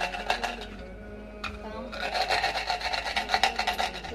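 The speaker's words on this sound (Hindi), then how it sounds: "थोड़ी सी सौंफ पीसने के लिए, क्योंकि बहुत मेहनत लगती है इसमें।" Fennel seeds are ground by hand with a stone, giving rhythmic, close scraping and rasping strokes with a short pause before steady repeated grinding resumes.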